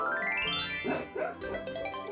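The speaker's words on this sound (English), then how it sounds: "That is the doggy under my desk." A dog under a desk gives a quick, close series of yips and whimpering barks, short high calls bunched together with faint background sound.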